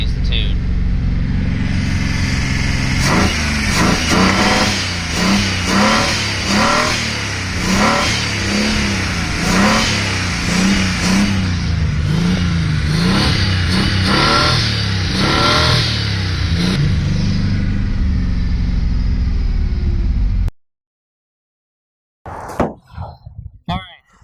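A 1979 Datsun 280ZX engine, running rich after a swap to bigger injectors with an unchanged tune, revs repeatedly in loud, close bursts of rising and falling pitch for about twenty seconds before cutting off, followed by brief handling noises.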